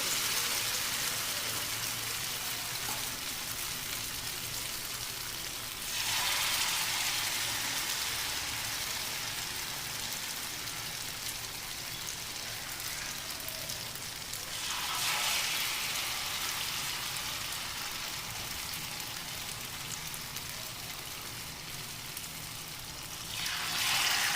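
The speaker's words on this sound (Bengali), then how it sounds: "আমি খুব বেশি হিট দেব না, আমি এটা লো টু মিডিয়াম রেখে ভাজবো।" Batter-coated paneer frying in oil on low to medium heat, a continuous crackling sizzle at moderate distance, swelling louder in periodic bursts as pieces are added or turned, with no voices.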